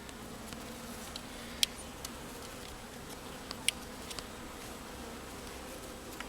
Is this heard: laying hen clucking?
no